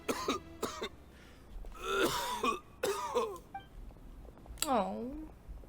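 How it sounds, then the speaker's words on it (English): A character in the video game Genshin Impact coughs and clears his throat in several rough bursts, mixed with strained moaning vocal sounds, close and clear. "Why is he coughing so much?"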